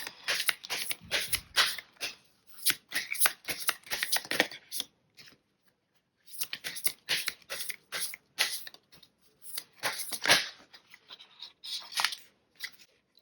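Oracle cards are shuffled for a tarot-style reading in quick, crisp riffling bursts. A short pause falls midway, then the rapid papery flicking resumes, close and clear with no talking.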